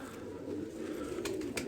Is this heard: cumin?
no